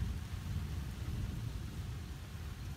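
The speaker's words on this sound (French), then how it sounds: "La tempête approche, avec l'orage aussi." Steady storm noise from the approaching storm Miguel at Angoulême, with heavy rain and low rumbling thunder forming a dense, continuous wash with no talking.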